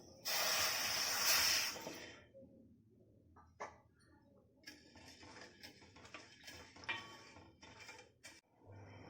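A sharp burst of hissing and sizzling up front, then quieter bubbling and soft crackles of sugar syrup boiling in a pan.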